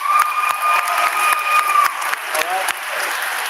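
Applause from an audience at a live event in a grand hall, steady dense clapping mixed with crowd noise and a few voices over a sustained tone throughout.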